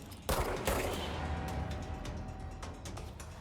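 Gunfire in the video game Control: sharp bursts of rapid weapon fire hit loud near the start, then give way to rumbling, echoing noise with scattered cracks.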